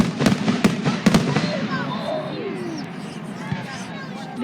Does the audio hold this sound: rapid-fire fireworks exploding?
yes